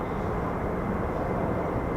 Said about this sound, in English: in the distance you can hear the Pratt & Whitney F-100 PW229s, and they belong in the F-15E Strike Eagle